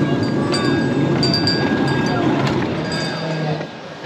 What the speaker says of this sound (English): Yeah, fun little train for the kids.